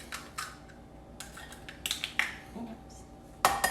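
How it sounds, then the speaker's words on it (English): Eggs being cracked into a mixing bowl for banana nut bread: sharp shell taps and clinks against the bowl spaced irregularly, with a louder knock near the end and faint kitchen clatter between. "let's crack the eggs first"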